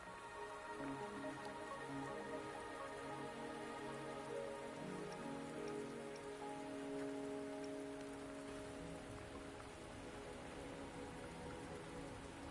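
Steady rain falls on a surface throughout, with music-like tonal layers running beneath the continuous patter and no voices.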